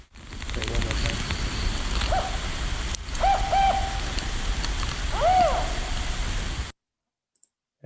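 A played recording of a spotted owl gives a series of hoots, a short one, a longer barking run and a final rising-falling call, over hissy background noise before cutting to silence.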